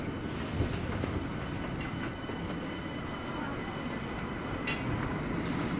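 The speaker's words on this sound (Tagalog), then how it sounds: "Ang haba nitong tren na ito." From inside a long passenger train in Barcelona, a steady rolling rumble of wheels on track fills the carriage, with faint rail clicks and a brief high squeal or two.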